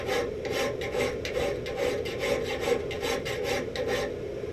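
A hand file rasps across a steel plate in a blacksmith shop, flattening it with a steady series of rhythmic strokes, close and fairly quiet, with no talk.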